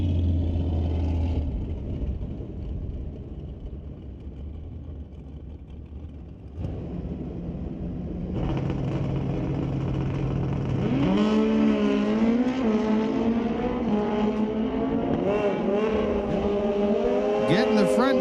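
A 2008 Kawasaki ZX14 drag racing motorcycle launches down the strip, its engine note climbing in loud rising sweeps after a quieter idle, with a commentator talking over the roar.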